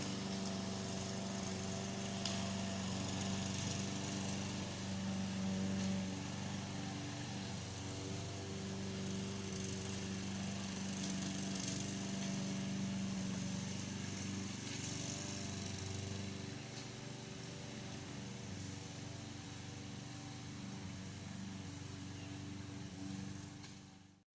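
A lawn mower runs continuously while mowing a yard beside a river, giving a steady droning engine hum that holds for the whole stretch with no voices.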